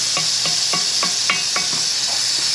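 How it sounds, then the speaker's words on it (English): Metal spoon scraping the bottom of a pot of wild hog stew with a flour base, a steady series of about eight short rhythmic scrapes over a faint background hiss. "So I'm gonna just keep rubbing the spoon on the bottom of the pot to get all of that up."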